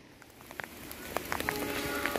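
Heavy rain falls near a curving railway line, a steady wash of patter with scattered sharper drops striking close by, growing slightly louder over the short stretch with no one speaking.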